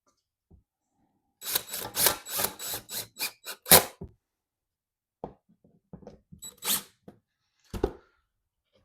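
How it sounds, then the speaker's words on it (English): A Vectothor Osprey is screwed into place during installation, with a rapid run of loud, close screwdriver bursts followed by a few scattered shorter whirs and clicks after a pause. "I'm just going to screw this into place."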